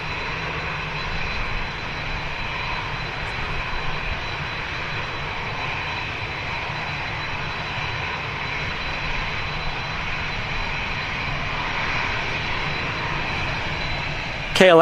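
A KLM Boeing 737 NG airliner lining up on the runway gives off a steady, loud jet engine roar that holds evenly throughout, with a brief sharper burst right at the end.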